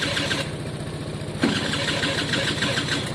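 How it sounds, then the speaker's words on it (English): A small two-stroke motorcycle engine starts and settles into a steady, buzzy idle close by, with a brief blip of revs partway through and no talking. "Let's warm up the little two-stroke as well."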